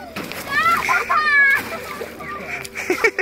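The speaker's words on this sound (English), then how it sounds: "You only got more splash than me." Water splashing around a canoe in Algonquin Park, close sloshes and splatters mixed with excited voices of people talking and shouting over it.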